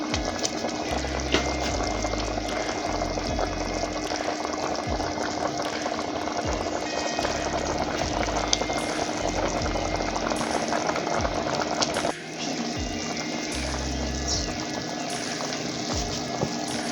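Plantains simmer in a pot of water, a soft continuous bubbling and hiss with faint low knocks and occasional handling clatter, fairly quiet throughout.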